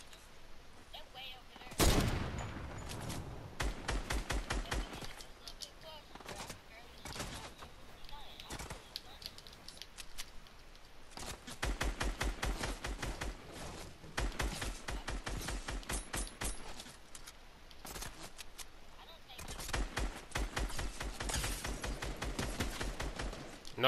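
Rapid bursts of automatic gunfire in Fortnite Battle Royale, sharp repeated cracks in long rattling volleys separated by short pauses, loud and close, with a voice talking at times.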